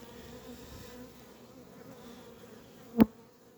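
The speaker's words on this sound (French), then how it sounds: "Les abeilles sont belles." Honey bees hum steadily around a beehive, a soft continuous close-up buzz with a brief sharp knock near the end.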